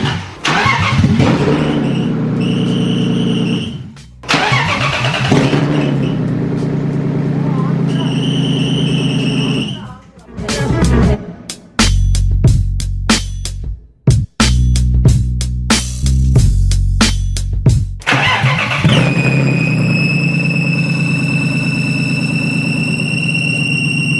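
A rebuilt BMW E36 M3 engine cranks over in several long whining attempts separated by pauses, sputters and catches, then settles into a loud, close running note with a high squeal, while people talk over it.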